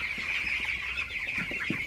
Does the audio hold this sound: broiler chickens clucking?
yes